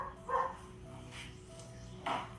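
Small dog Toby barking: two short, sharp, fairly faint barks about two seconds apart, with quiet indoor background between them.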